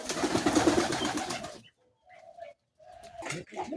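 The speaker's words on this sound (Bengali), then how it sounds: "আমার মানে কবুতর পালন করি" Domestic pigeons coo close by in a low, throbbing rolling call that fills the first half, followed by a near-silent gap and a few fainter coos and rustles.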